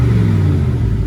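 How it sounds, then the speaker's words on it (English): A 2025 Aston Martin Vantage sports car in Sport Plus mode, exhaust baffles open, rumbles with a loud, deep, sustained rev recorded close by, with no voices over it. "That does open up the baffles in the exhaust, so I'll give it a little rev for you now."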